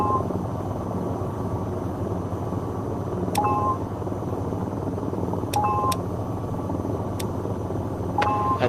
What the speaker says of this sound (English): At this point, the helicopter is ready to take off.